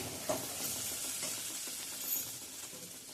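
Ingredients for sanja sauté in a pan with a steady, soft sizzle and hiss, broken by faint stirring scrapes, with no voices.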